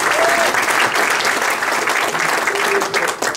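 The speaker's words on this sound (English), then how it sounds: "Give her a big round of applause" Loud, sustained applause from a crowd at a congressional debate as the candidate's wife stands, a dense continuous roar of hands with little variation throughout.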